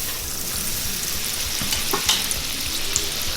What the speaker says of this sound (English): We will add olive oil, then we will add butter,